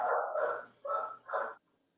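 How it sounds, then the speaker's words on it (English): A puppy barks three times in quick succession, clear short yaps in a quiet room with no talking, followed by a faint whine. "So I heard a puppy in the background"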